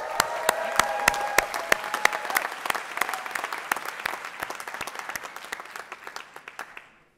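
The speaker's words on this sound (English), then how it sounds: "As you can tell by the round of applause, this is a celebration" A sustained round of applause from an audience at the 2017 Master of Engineering Management hooding and diploma ceremony, with dense clapping and sharp individual claps close by, tapering off toward the end.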